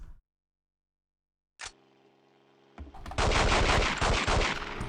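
Gunfire in The World is Not Enough video game: after a brief silence a mechanical click and hum lead into a loud, rapid, sustained burst of automatic shots that continues to the end.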